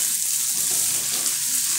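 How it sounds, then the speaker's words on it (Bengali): Chopped tomatoes hitting onions browned in hot oil for dal fry, a loud, even sizzle that hisses steadily for about two seconds with faint stirring beneath. "এবার আমি এর মধ্যে কুচিয়ে রাখা টমেটো দিয়ে দিলাম"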